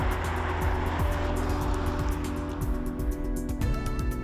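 A Lucid Air Grand Touring electric car accelerates hard, a steady whirring drive with road and wind roar that stays loud throughout, a faint rising whine near the end.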